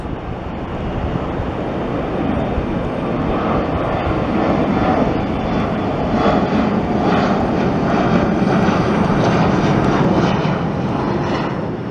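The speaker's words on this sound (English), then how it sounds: "here we have another landing" A passenger jet roars steadily and loudly as it lands at an airport, a broad sustained engine rumble and whine filling the whole stretch with no voices.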